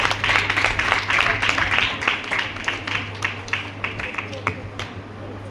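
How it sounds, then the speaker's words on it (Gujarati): Audience at a child-protection event at an ashram school in Gadat claps to welcome the police inspector presiding as chief guest, a steady burst of applause that thins toward the end, with a low hum underneath. "સૌ તાળીઓથી સાહેબને આપણે વધાવીએ મિત્રો"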